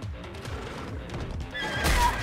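A horse in the video game Stellar Blade whinnies loudly near the end, after a stretch of steady clip-clopping hoofbeats at a gallop, with game ambience underneath.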